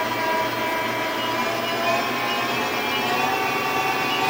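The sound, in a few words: Prototrak 1840 CNC lathe running at about 400 RPM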